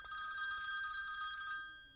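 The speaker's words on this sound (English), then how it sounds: "Phone is ringing." Telephone bell ringing, a steady electronic trill held for nearly two seconds at moderate level before cutting off, with no one speaking.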